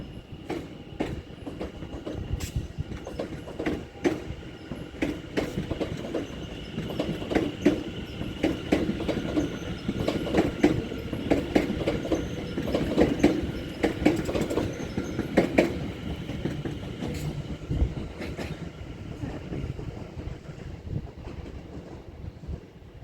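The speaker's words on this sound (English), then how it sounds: "And here goes the train." A train pulls out of Shenfield station in Essex, wheels clicking over rail joints in a steady rumbling rhythm with a faint squeal, close by and rolling on without voices.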